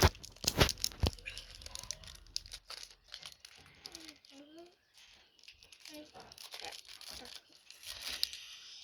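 Foil and plastic packaging of a Pokémon TCG card pack from a V Star Lucario Premium Collection tears and crinkles up close in short bursts, with someone speaking in between.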